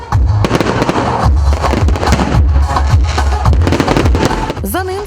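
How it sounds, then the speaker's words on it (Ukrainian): Fireworks display accompanying a singer's concert performance, a dense barrage of booming bursts and crackles filling the whole stretch, loud and close, with a brief rising whistle near the end. "Виступ співака супроводжувався феєрверками, які представила команда показового шоу феєрверків із Чернівців."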